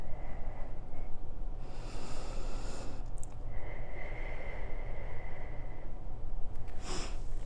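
Slow, audible breaths in and out during a Pilates exercise, with a long exhale through the middle and a short sharp breath near the end, close over a steady background hiss.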